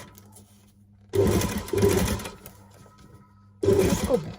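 Close, loud runs of a sewing machine topstitching along a fabric edge, about a millimetre or two from the border, come in two bursts separated by a quieter pause, with a brief spoken remark in between.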